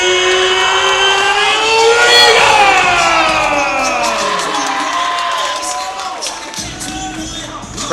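Crowd at an MMA event cheering and whooping for a fighter being introduced, loud and sustained, with an amplified announcer's voice ringing through the arena.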